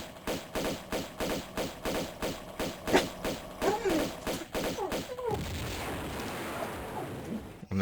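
Enemies exploding in Tomb Raider 2 Remastered: a rapid run of evenly spaced bursts and thuds, followed by a sustained noisy roar. A voice talks intermittently over the bursts.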